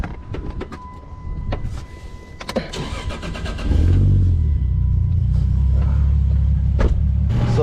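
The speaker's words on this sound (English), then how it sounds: "I'm gonna go ahead and turn the car on real quick." A turbocharged Chrysler 300 with a swapped 2JZ engine cranks and fires up after a few clicks and short bursts, then settles into a loud, steady idle rumble close by.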